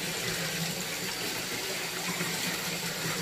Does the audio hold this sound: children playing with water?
yes